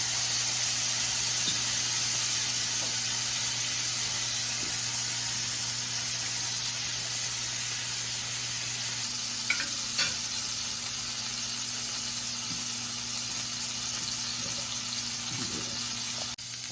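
Spiced lamb burgers sizzle steadily on a grill, a constant close frying hiss with faint crackles and pops, heard alone without talk.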